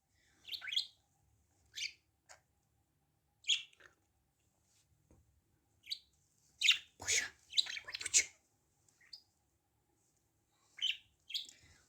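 Budgerigars and a cockatiel chirping in scattered bursts, high sharp tweets and chatter with quiet gaps between, fairly close and without voices.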